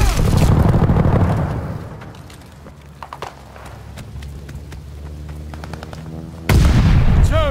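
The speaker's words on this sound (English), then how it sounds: "Allies called an airstrike." Airstrike explosions in the video game Call of Duty: Vanguard open with loud, heavy booming, fade to a rumbling lull scattered with sharp cracks, then a sudden second loud blast hits near the end.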